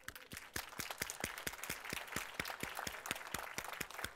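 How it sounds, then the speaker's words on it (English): Audience applause from a crowd at a speaker series event, a dense steady roar of clapping with sharp rhythmic claps standing out, sustained and fairly close throughout with no talking. "give yourselves a round of applause"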